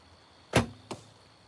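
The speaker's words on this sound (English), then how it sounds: "I just heard arrows touching arrows." Arrows knock against each other at an outdoor archery setting with recurve and traditional bows: two sharp wooden clacks in quick succession, the first louder, close by and with no voices.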